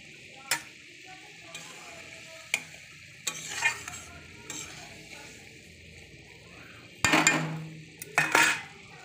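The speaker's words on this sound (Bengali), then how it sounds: "দেখো আমার ঝোল ফুটে গেছে" A pan of hilsa fish curry with mustard paste, tomato and coriander leaves bubbles under a quiet simmer, broken by sharp clinks and scraping bursts of a utensil against the pan.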